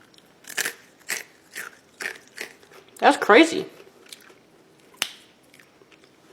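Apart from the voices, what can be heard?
biting crunchy microwaved parmesan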